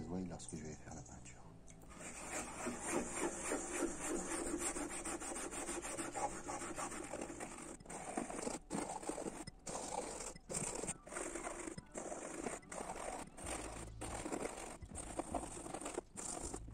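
Fast, continuous scrubbing of a toothbrush's bristles against a Renault Megane's car headliner, removing glue, steady and close, with short pauses and a voice talking over it at times.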